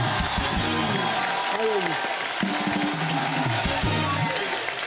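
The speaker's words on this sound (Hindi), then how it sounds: "मुझे लगा एक बार अक्षय बाजी के लिए जोरदार तालियां हो जाए" A crowd gives loud, sustained applause for Akshay at a Kesari event honouring a CRPF hero, the clapping and cheering running continuously underneath people talking.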